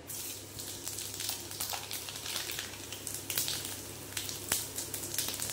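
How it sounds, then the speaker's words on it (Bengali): Whole cumin, nigella and fenugreek seeds sizzle in hot oil for a spiced tempering, a steady soft crackling hiss with faint pops and occasional stirring, alone and fairly quiet throughout. "এখানে ফোড়ন যাচ্ছে গোটা জিরে, কালো জিরে আর মেথি। ওই তেলেই দিয়ে দিলাম।"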